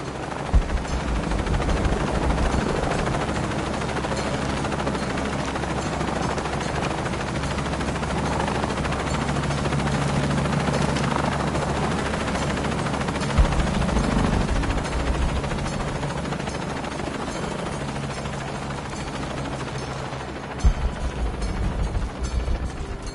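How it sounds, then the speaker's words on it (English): Steady, loud rotor drone of a helicopter from inside the chopper in a PS4 video game, holding constant for over twenty seconds with a few faint clicks and knocks. "I'm in a chopper"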